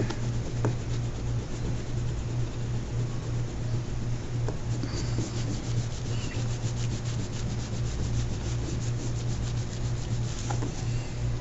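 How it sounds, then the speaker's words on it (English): A crayon rubs hard across paper while a pumpkin is coloured in, a continuous close scratchy scrubbing with a quick back-and-forth rhythm and occasional louder strokes. "switching to my broken dandelion crayon. If your hand has not cramped up yet, you are not pressing hard enough"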